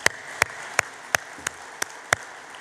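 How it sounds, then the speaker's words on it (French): At a permit ceremony for new accountants in Montreal, a few sharp, separate claps ring out in an even, slow rhythm, about seven in all, quiet against a soft room background. "On peut les applaudir."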